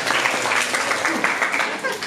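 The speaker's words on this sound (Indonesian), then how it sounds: "Oke, tepuk tangan." A classroom of students applauds together, dense steady clapping filling the whole moment at close range, with voices mixed into the noise.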